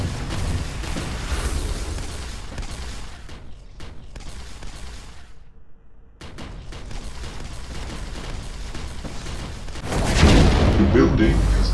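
A building blows apart in the shooter Dead Shot Heroes amid booming blasts and scattered gunfire. A heavy, loud explosion surges near the end after a quieter lull, with a voice speaking in the mix.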